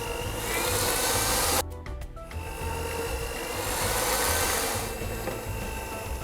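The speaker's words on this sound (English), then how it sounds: "especially when you're using an electric mixer" Electric mixer beating buttermilk coffee cake batter, a steady loud motor whir that cuts out briefly and then resumes, running on with no talk.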